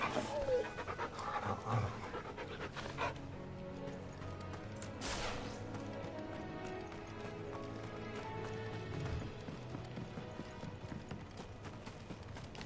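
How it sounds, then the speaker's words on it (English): A hound panting in the video game Final Fantasy 16, steady rhythmic breathing mixed with hoof clip-clop and in-game sounds, with voices talking over it. "What a fine hound."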